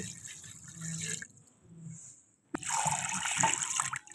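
About 1.5 litres of water pours onto beef in a cooking pot in two bursts, a splashing stream, a brief near-silent pause, then a louder, fuller pour that continues to the end.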